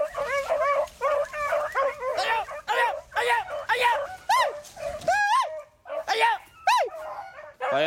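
Hunting dogs chase a wild rabbit in the field, giving a rapid run of high, near yelps and excited barks, many rising and falling in pitch, with brief gaps and no pause in the pack's noise.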